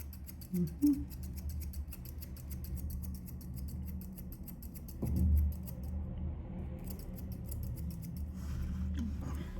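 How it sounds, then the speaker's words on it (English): Ring scissors trim a dog's coat during grooming, a rapid train of faint, close metallic snips with brief pauses and a soft bump partway through, quiet and unaccompanied by talk. "Try the ring scissors."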